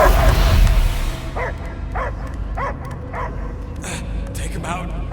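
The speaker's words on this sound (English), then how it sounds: "I hear only barking." A dog barks and whimpers in the Guardians of the Galaxy video game, several short yips in a loose rhythm following a loud opening burst of game sound.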